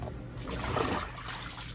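Water trickling and rinsing out of hand-dyed fabric washed with soap and hot water, a soft close splashing dribble that swells briefly in the middle, with no talk.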